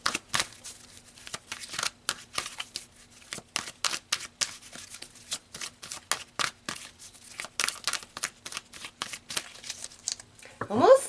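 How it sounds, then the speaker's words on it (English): Tarot cards being shuffled close by in a quiet room, a long run of quick papery riffles and flicks in irregular bursts. "So let's pull some more cards here."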